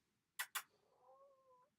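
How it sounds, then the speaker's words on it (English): Pet cat meowing indoors: two sharp, bright bursts followed by a drawn-out, wavering meow that trails off, faint and close in a quiet room with no talk. "my cats are so vocal today"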